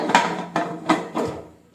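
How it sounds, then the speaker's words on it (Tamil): Four metallic clanks and scrapes sound close by in quick succession as a heavy pressure cooker lid is fitted and locked onto a pot of keerai soup. "குக்கரை மூடி போட்டு"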